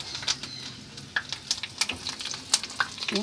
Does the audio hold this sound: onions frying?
yes